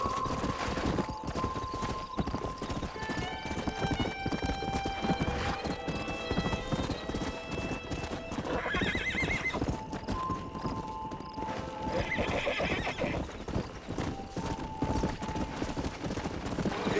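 Horses in the video game Red Dead Redemption gallop with steady rapid clip-clop hoofbeats throughout, while whinnies and neighs rise over the hooves several times, fairly close and loud.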